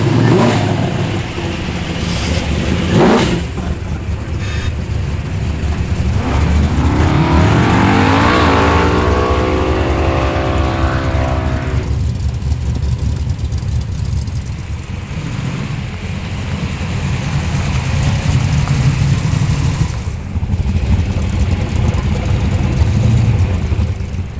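A modified muscle car engine revs hard at an airstrip drag event, a loud sustained roar climbing in pitch as it accelerates away, then settling into a steady drone.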